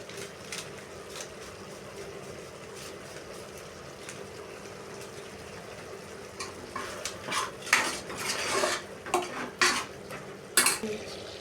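Mutton is sautéed with coriander powder and mutton masala in oil in a pan, a steady low sizzle under repeated metallic scrapes and clinks of a spatula stirring, growing busier toward the end.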